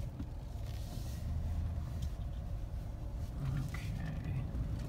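A car backs up a little and pulls off on a rural property, a low, steady engine rumble and road noise heard from inside the vehicle, with a voice talking over it.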